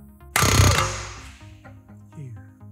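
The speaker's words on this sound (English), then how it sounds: "Air hammer, chisel into the bottom of the impact nut" An air hammer drives a chisel into the bottom of an impact nut to separate a track rod end from the knuckle. One short, loud burst of rapid hammering is heard close up, then a metallic ring fades out.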